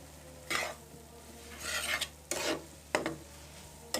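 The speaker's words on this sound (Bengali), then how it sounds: "এটা ভালো করে ভাজা ভাজা করব" A spatula scrapes and tosses noodles with shrimp, egg and soy sauce in a frying pan: four or five separate scraping strokes, close by, over a quiet background with a faint sizzle.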